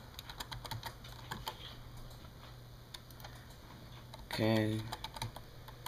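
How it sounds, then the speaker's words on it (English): Password typed on a computer keyboard during Windows 7 setup: a quick run of light, close key clicks, then a brief spoken word near the end, the keys staying soft and steady. "Type in a password."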